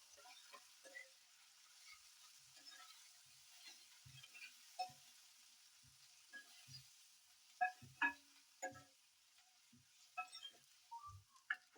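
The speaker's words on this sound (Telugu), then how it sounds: "మంచిగా నూనెలో మంచిగా ఫ్రై కావాలి." Onions, tomatoes and green chilies fry in oil, with soft scattered crackles and pops and occasional stirring scrapes over a faint hiss, quiet and close with no voices.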